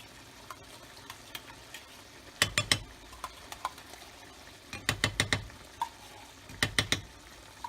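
Ground beef with wine and tomato paste is stirred in a pan for Sicilian arancini filling, with a low simmering sizzle under bursts of rapid spoon scrapes and knocks against the pan in three clusters, close and fairly loud.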